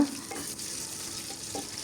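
Onions fry and get stirred in a pan for a spicy beef and potato curry made with chui jhal, giving a steady close sizzle with a few soft scraping stirs and no voices.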